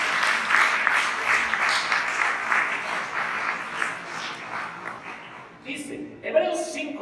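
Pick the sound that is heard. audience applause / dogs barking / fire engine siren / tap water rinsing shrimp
audience applause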